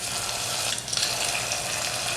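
Hot oil with popped mustard seeds hisses steadily as the tempering is poured into sambar, a close, loud sizzle with a brief dip in the middle.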